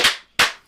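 Two sharp, close hand claps about a third of a second apart, each a crisp slap with a quick decay, with nothing else around them.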